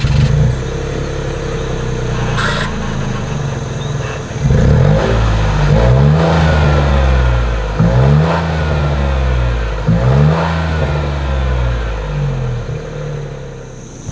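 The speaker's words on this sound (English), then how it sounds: "As always, here is that exhaust clip." A 2026 Nissan Rogue SUV idles with a steady exhaust rumble, then its engine is revved in about five quick rising pulses, loud and close from the rear.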